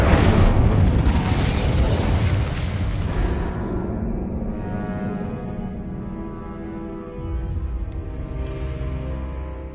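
A loud booming explosion from Confringo and Incendio spell casts in Hogwarts Legacy on PS5, opening with a big burst that rolls and rumbles away into a low, fading tail, followed by a softer swell near the end.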